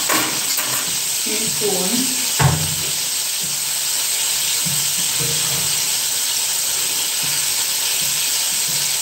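Frying chicken in a pan hisses loudly and steadily as sauce goes in, a dense close sizzle throughout with a brief clatter early on and someone talking faintly beneath it.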